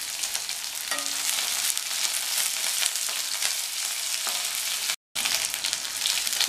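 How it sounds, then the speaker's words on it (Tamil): Onions and green chilies sautéing in oil for vendakkai sambar, a steady bright sizzle close by with a few soft stirring knocks and a momentary dropout. "இந்த வெங்காயமும் பச்சை மிளகாவும் வதங்கட்டும்."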